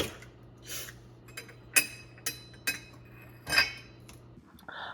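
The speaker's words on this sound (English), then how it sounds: "what you just heard was me hitting the egg way too hard on the countertop" An egg struck too hard on a kitchen countertop while making brownies, heard as a few sharp, isolated clicks and knocks of moderate loudness spaced apart, with faint kitchen clatter and a steady low hum underneath.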